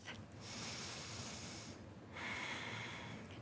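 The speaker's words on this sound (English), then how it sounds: "Maybe taking deep breaths in through the nose and out through the mouth" Slow deep breathing during a gentle exercise session, a long airy inhale through the nose followed by a fuller exhale through the mouth, close and clear with no talking.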